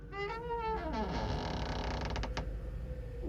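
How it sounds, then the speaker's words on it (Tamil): A long, loud door creak in the horror video game Dead Feed, with drawn-out wavering groans as the door swings open, ending in a faint mechanical clunk. "கதவை திறந்துட்டோம்"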